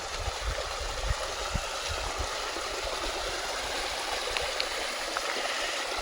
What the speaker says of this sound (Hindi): उस ताल से एक स्वनिर्मित एक खूबसूरत पानी का झरना